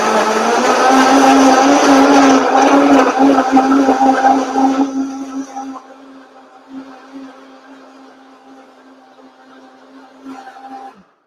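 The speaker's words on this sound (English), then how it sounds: "I'm gonna go ahead and turn it on" A high-speed blender whirs loudly while blending a green smoothie, a strong steady motor drone for about five seconds that then drops to a quieter hum as the load settles, with no talking.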